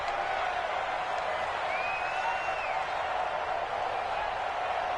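Video game crowd in a PS4 football game swells into a steady, broad roar with scattered whistles and whoops ahead of a big third down, continuous and fairly loud throughout with no clear speech.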